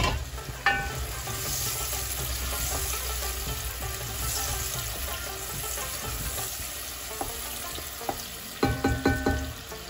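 Onion frying in a hot pan for a bhindi dish, a steady crackling sizzle throughout with a few sharp pops and stirring clatters near the end.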